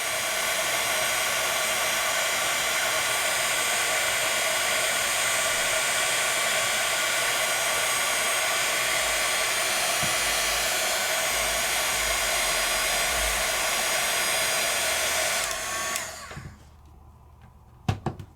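Heat gun blasting hot air on shrink plastic for a craft project, a loud steady roaring whoosh lasting about fifteen seconds before it clicks off into quiet.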